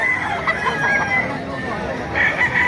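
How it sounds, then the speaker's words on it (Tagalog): Large roosters and chickens at the Bocaue pet market crow and cluck repeatedly against a busy crowd babble, several birds calling close by with shrill, drawn-out crows. "napakalalaking manok nito"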